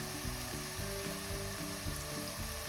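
Onions soften as they fry with red pepper in a pan, giving a steady close sizzle throughout with faint stirring, and no one speaking.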